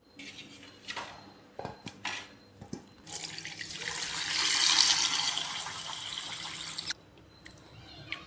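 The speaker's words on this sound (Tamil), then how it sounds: "உருளைக்கிழங்க சுத்தமாக கழுவி எடுத்துக்கலாங்க." Potatoes being washed in water at a kitchen sink while preparing potato masala for puris, with a running tap and splashing, the rush of water swelling in the middle and clinking handling sounds before and after.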